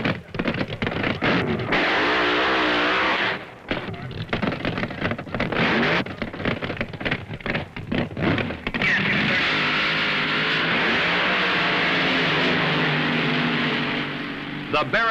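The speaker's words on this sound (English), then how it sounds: "Big John's Barracuda against Mickey Thompson's Mustang in the Funny Car Finals" Roaring engine noise from a vintage funny car drag race final, Big John's Barracuda against Mickey Thompson's Mustang, loud and sustained with a rough broadband rumble, overlaid by a commentator talking.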